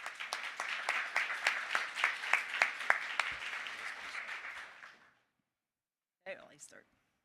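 Audience applause greeting two speakers as they take the stage at a talk on patients and communities driving drug discovery, a steady burst of many hands clapping for about five seconds, then stopping, followed by a brief faint sound.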